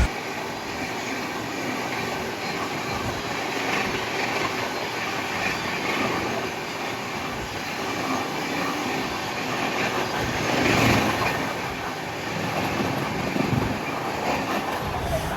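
Amrit Bharat Express train running on the line from Malda to Lucknow, heard from on board as a steady, loud rumble of wheels and carriage noise with faint rhythmic clatter throughout.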